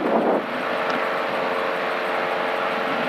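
Piper Arrow single-engine light aircraft during its takeoff roll, a steady droning engine hum with a faint tonal whine, heard from inside the cabin with a brief louder rumble at the start.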